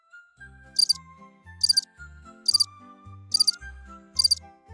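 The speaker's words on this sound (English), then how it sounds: "It's a cricket." A cricket chirps in five evenly spaced bursts of bright, rapid trills, clear and close, over a soft, cartoonish musical backing.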